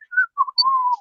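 A voice imitates whistling in a short, clear, tuneful phrase of a few gliding notes, close and loud, with no other sound around it.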